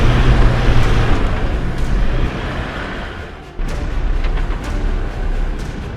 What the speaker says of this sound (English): I'm reversing back as far as possible to ensure that I can build up enough momentum to drive out